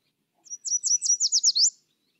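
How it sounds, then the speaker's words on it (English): A yellow warbler sings a quick, high, bright phrase of about nine sweet notes that speed up and end in a slurred flourish, clear and alone. "The yellow warbler is the perfect example."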